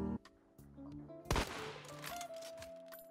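A short burst of gunfire in Hunt: Showdown: a few scattered shots, then one loud sharp blast with a trailing ring, followed by a lingering tone and faint background rumble.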